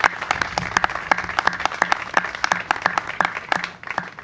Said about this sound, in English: Let's first give Christiana Care a big round of applause for hosting us today.